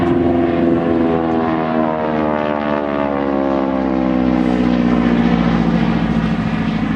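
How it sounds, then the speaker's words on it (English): A Harvard propeller plane drones loudly and steadily overhead with a crackling engine sound, its tone sliding gently downward as it passes close by. "noticed that crackling sound as the aircraft went past us"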